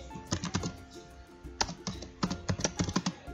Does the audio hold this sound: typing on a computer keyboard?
yes